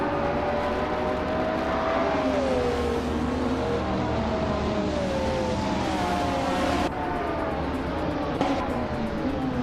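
Several racing cars roar off the line at a race start on Rio de Janeiro's reverse track, led by a 1999 Lamborghini Diablo GT; steady, loud engine drone with rising and falling revs throughout, no talking.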